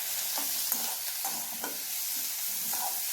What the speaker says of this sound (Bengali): এখন এটাকে নাড়াচাড়া করে বেশ ভালো করে একটু ভাজা ভাজা করে নিচ্ছি।